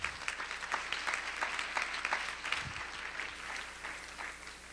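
Applause from a conference audience thanking event volunteers, a steady wash of many hands clapping at moderate distance, holding through the whole stretch without any voices.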